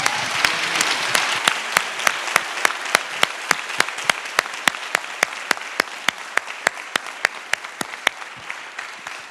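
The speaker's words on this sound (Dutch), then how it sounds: "Dus geef hem nog een applaus." A worship service congregation applauds, a full wash of clapping that settles into sharp, evenly spaced rhythmic claps in unison, repeating steadily and tapering near the end.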